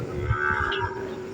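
Cattle moo at an outdoor livestock market in Lemery, Batangas. One close, drawn-out low moo lasts over a second above the market's background noise.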